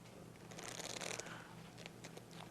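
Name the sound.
shuffling a deck of playing cards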